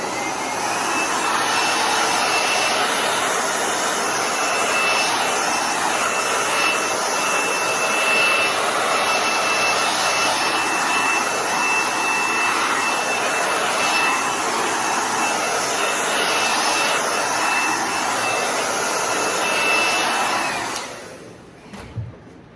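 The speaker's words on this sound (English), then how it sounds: "we're gonna blast it with a hairdryer just for a little bit" A hair dryer blasts on a freshly painted picture frame, a loud, steady whooshing roar of air that runs continuously for about twenty seconds before cutting off with a brief clatter.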